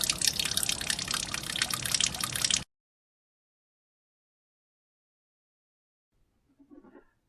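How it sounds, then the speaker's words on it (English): Engine coolant drains from a 2013 Kia Rio in a steady, close splashing stream for about two and a half seconds, then stops abruptly, followed by silence and a faint drip near the end. "all the coolant is draining out"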